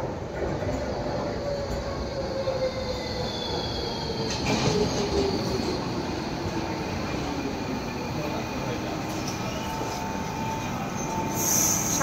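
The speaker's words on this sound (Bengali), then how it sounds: "এটা হচ্ছে লন্ডনের একটা অটোমেটেড মেট্রো সার্ভিস, যেটা লন্ডনের ডকল্যান্ড এরিয়াতে চলে।" A Docklands Light Railway automated metro train runs through London, a continuous rumble of wheels on rails with rising and falling squeals and a brief louder surge midway, heard from on board with no talk.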